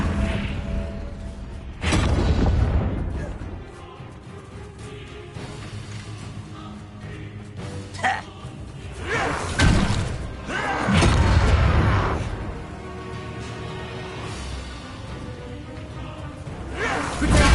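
A fiery Confringo spell blasts in the Hogwarts Legacy video game: loud whooshing bursts and heavy booms hit several times amid rumbling battle effects, with thuds and crashes between the blasts.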